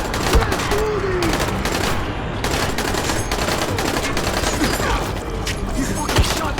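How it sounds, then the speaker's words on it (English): Gunfire in the Dying Light game fills the clip: dense, loud bursts of rapid shots and booms crowding over chaotic combat noise, with shouted voices breaking through now and then. "He fucking shot me!"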